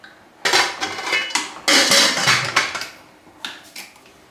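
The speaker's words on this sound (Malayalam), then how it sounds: "ഇനി ഞാനിത് അടച്ചിട്ട് അടുപ്പത്ത് വയ്ക്കട്ടെ കേട്ടോ." A lid clatters onto a pot of dal curry and the pot is set down on the stove, several sharp metallic clanks and scrapes in quick bursts, close and loud.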